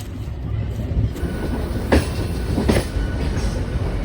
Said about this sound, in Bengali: ট্রেন কিন্তু বেশ ভালো জোরেই টানছে